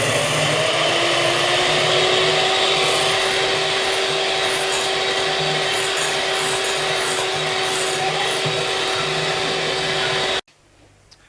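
Cake batter for a birthday cake being beaten with an electric mixer while oil is added, a steady loud motor whine with a constant hum running unbroken for about ten seconds before it abruptly cuts off.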